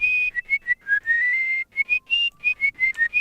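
A person in a garage studio whistles a melody, a clear run of distinct pure notes in a steady rhythm, some short and some held longer, close and alone without talk.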